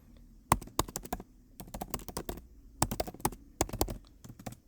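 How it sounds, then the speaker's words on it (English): A password is typed on a computer keyboard in bursts of close, crisp key clicks with short pauses between them, heard alone without talking. "If you have a password protected computer, so you will have to type your password there."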